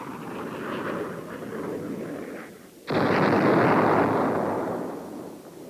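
A napalm bomb dropped from an aircraft explodes in an old military film, giving a sudden loud, roaring blast after a low rumble, followed by a sustained noisy roar.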